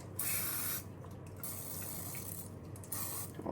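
Spraying oil onto panko-breaded vegan food before air frying: three bursts of fine hissing spray, close and fairly soft, with short pauses between them.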